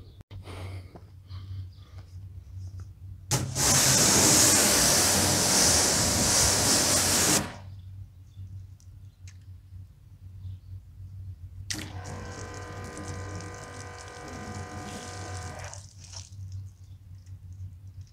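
Water sprayed in two bursts onto a car coated with Meguiar's Hybrid Ceramic Liquid Wax, a loud hissing spray of about four seconds followed by a second, shorter spray, over a steady low hum.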